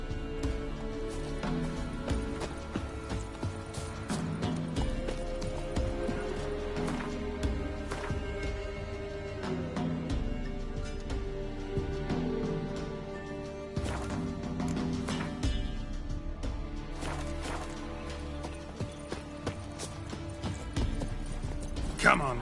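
Horse hooves clop along steadily through a game world in The Witcher 3, mixed with music and other ambient game sounds throughout.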